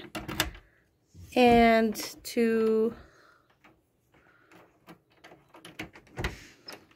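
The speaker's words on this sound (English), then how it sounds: "push the little lever on the left-hand side. That should open up the lockbox." Lever on a lockbox pushed to open it: sharp clicks, then two drawn-out squeaky, scraping mechanical sounds, with more clicks and rattles afterward and a brief spoken word.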